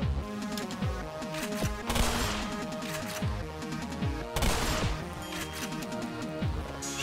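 Ammunition and explosives detonating in Spyro: A Hero's Tail crackle in dense, rapid popping bursts, with two heavier crashing blasts partway through, loud and continuous.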